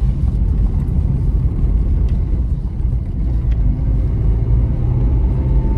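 Ford Aspire engine pulling uphill in second and third gear, a steady low rumbling drone heard from inside the cabin and holding constant throughout.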